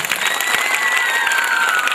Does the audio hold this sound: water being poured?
no